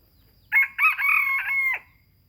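A fighting cock crows once, a single loud, close cock-a-doodle-doo lasting over a second with a stuttering start and a drawn-out, falling end, against faint low background rumble.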